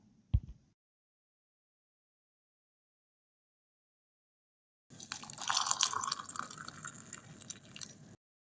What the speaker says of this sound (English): we will pour boiling water on top